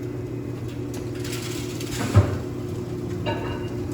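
A pewter casting mold machine pressurizing and spinning gives a steady, close mechanical hum and whir, with one brief knock partway through and no talking.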